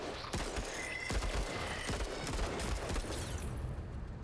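Rapid bursts of gunfire from a turn-based tactical RPG, several sharp cracks in quick succession over a dense, busy game soundscape.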